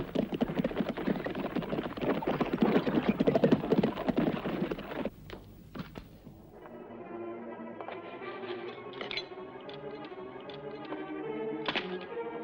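Horse hooves clatter loudly in a dense, rapid rush that breaks off abruptly, leaving quieter scattered clip-clop and background scene sound, in a 1967 Spanish-language Western film.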